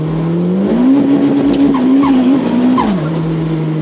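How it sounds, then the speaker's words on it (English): A highly modified car driven hard, its engine note climbing and holding high while tires squeal and skid, loud and close for several seconds with no talk over it. "It's a good car. It sounds sick."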